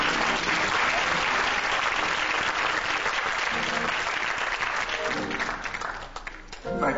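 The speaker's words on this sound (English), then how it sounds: "Why don't you give the Lord a hand clap?" A church congregation applauds at a New Year's Eve service, a dense, steady wash of many hands clapping that holds strong for about six seconds before thinning slightly near the end.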